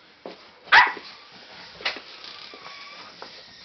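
A dog at a breeding kennel gives one sharp, loud bark, then a softer second yip about a second later, close by in a quiet indoor room.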